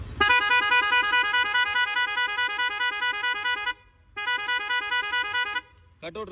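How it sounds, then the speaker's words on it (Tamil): A musical horn on a Honda Dio scooter plays a repeating electronic tune with a pulsing beat, loud and close, cutting out briefly twice before resuming. "ஸோ ஹார்ன் அடிக்கிற பாருங்க, 7 மியூசிக் எப்படி இருக்குன்னு பாருங்கள்."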